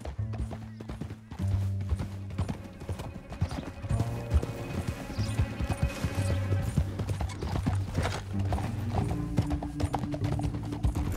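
Horse hooves gallop in the video game Red Dead Redemption 2, a fast, steady clip-clop that runs throughout beside tonal music, with a brief horse whinny and someone speaking a short line.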